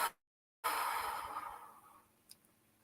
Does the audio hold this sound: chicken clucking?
no